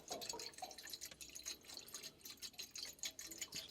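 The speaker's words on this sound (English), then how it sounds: "Just wait for the water to drain and then change it over." Water drains out of a domestic hot water cylinder during an immersion heater change, heard as a faint, continuous splashing trickle with soft pulsing surges.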